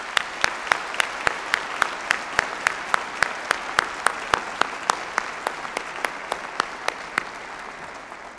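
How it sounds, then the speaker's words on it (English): Audience applause at a spring university graduation ceremony, steady clapping from a large crowd with sharp, regular claps standing out over a dense wash, sustained throughout at moderate loudness. "I'd like to recognize them with a round of applause."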